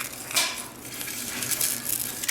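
Eggshells are crushed by hand to feed back to chickens, giving brittle crackling and crunching bursts, some louder snaps, close up with no talk.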